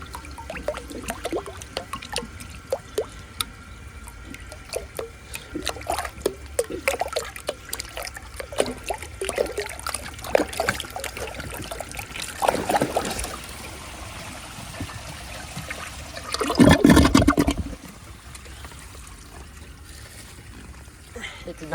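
A 1983 Gerber Mt Vernon toilet gurgles and trickles, then surges in a louder rushing flush near the end as the bowl overflows, with a person talking over parts of the water sounds.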